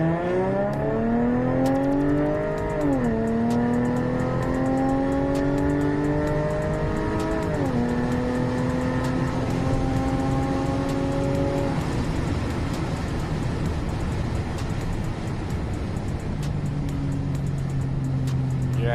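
A 2013 Audi S5 with a dual pulley launching down an unprepped drag strip on winter tires, the engine loudly revving up through several gear shifts and then easing off, close and continuous.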